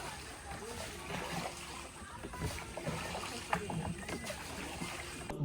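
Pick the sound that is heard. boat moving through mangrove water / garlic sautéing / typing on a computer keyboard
boat moving through mangrove water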